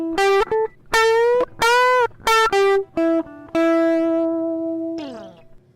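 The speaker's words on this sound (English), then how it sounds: "the addition of some distortion adds a sweet tonal characteristic to the guitar sound" Short bursts of distorted electric guitar notes, then a long sustained note that bends downward and cuts off, played alone.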